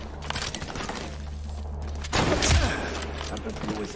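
Gunfire in the combat shooter Medal of Honor Warfighter, with rapid bursts of automatic fire throughout and a louder, heavier volley around the middle, while a player speaks over it.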